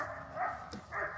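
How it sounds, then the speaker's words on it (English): A neighbor's dog barks a few times nearby, short muffled woofs heard faintly over indoor room noise, with no speech. "Neighbor dog barking."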